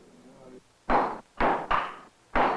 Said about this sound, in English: The work of firing and hammering is repeated as the rod is slowly stretched to the length of the finished blade.